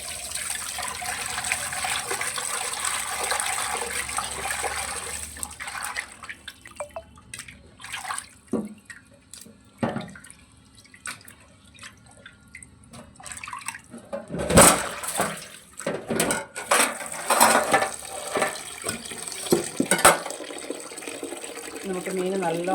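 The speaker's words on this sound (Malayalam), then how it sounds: "നമുക്ക് മീൻ നല്ലോണം വെള്ളം തെളിഞ്ഞ് വരുന്നതൊന്ന് കഴുകിയെടുക്കാം" Running tap water splashes over fish being washed for a Kerala-style fish curry, a steady close rush broken by clattering bursts and sloshing as the pieces are rubbed and rinsed.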